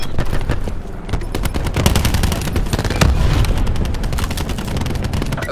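Rapid automatic fire from the Spitfire gun in Call of Duty Black Ops 4 on the Nuketown map, a dense, steady stream of loud, close shots with booms mixed in, lasting throughout with no talk.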